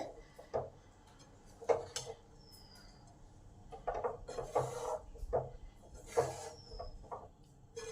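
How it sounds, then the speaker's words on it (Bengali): Peanut powder and jaggery being stirred together in a pan, soft scraping and rubbing strokes with light utensil clinks, quiet and close in a fairly still room. "ভালো করে বাদামের পাউডারের সঙ্গে গুড়টা মিশিয়ে নেব।"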